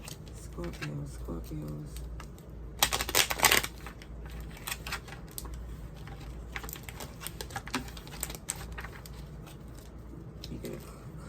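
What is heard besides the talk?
tarot cards being shuffled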